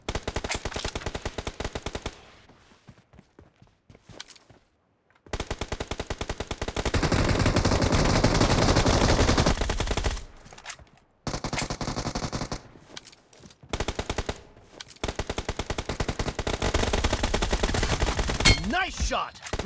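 Bursts of automatic gunfire from the PUBG Mobile battle game, loud and close, come in rapid volleys separated by brief silences, with a long sustained stretch of firing in the middle.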